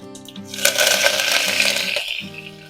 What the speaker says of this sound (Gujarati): રાઈ સરસ ફૂટી રહી છે.